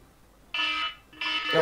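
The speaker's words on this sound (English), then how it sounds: "Well, that was a phone call." Incoming phone call ringing in two harsh, buzzy alarm-like bursts, fairly loud and close, heard during an online Teamfight Tactics coaching session, with a voice starting at the end.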